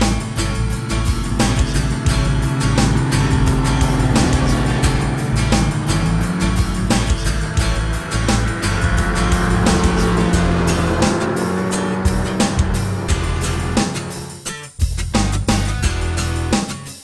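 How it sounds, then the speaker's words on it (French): A 2013 Ski-doo Expedition 1200 LE snowmobile rides over snow, its engine roaring loud and close throughout, surging and easing with throttle changes and a brief dip near the end; no talking. "La motoneige, c'est vraiment toute une belle machine."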